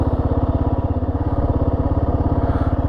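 A Kawasaki KLR 650 motorcycle engine thumps in a steady, close single-cylinder rhythm as the bike sets off, loud and continuous with no talk over it.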